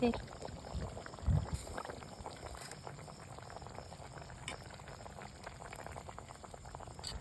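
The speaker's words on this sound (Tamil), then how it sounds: "குழம்பு நல்லா கொதிச்சு எண்ணெய் பிரிஞ்சு வந்திருக்குல்ல, கொதிக்குது பாரு." Tamil village-style fish curry (kulambu) bubbles at a boil in a pot, a soft, quiet continuous burble with a couple of faint knocks near the start.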